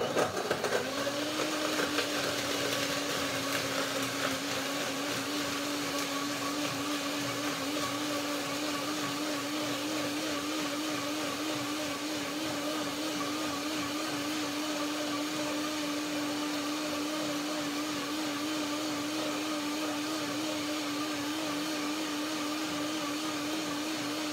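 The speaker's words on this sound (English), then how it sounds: "Blender dance." Blender running while it mixes a lemony cashew yogurt dressing, a loud steady motor whine close by that holds one pitch for the whole stretch after a brief start-up.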